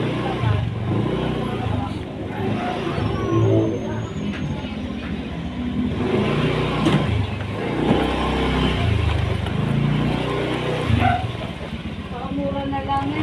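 A motorcycle rides through a narrow neighborhood lane, its engine a steady close drone throughout, with dogs barking nearby and a voice talking over it.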